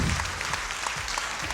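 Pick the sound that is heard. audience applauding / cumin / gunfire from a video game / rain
audience applauding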